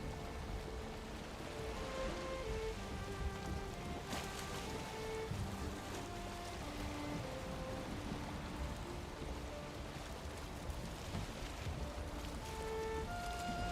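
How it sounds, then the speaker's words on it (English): Steady video game rain hisses continuously, with a soft wash of water and faint tonal game music underneath. "This rain is obscuring vision."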